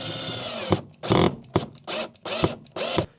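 Power drill driving two screws to mount a solar light, a loud close series of whirring bursts, about six short runs of rising and stopping motor noise with brief pauses between them.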